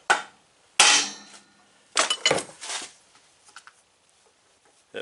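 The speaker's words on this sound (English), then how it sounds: "I'm going to whack this with a hammer." A hammer whacks a U-joint clip on a pickup's rear-wheel-drive driveshaft, giving sharp metallic strikes close by: one quick hit, a louder one, then a cluster of blows fading into lighter taps.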